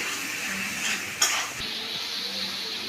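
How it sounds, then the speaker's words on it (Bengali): Mutton for khichuri roasting dry in a pan with a steady close sizzle, a spatula scrape and one sharp clink against the pan partway through. "চলুন এই মাংসটাকে আমি একটু কষিয়ে নিই ভালো করে"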